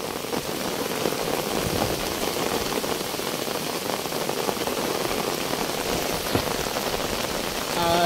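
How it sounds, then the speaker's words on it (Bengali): Heavy rain pours down hard and steadily, a dense close hiss of drops striking surfaces, with no voices. "অবস্থা দেখছি এত বৃষ্টি পড়ছে"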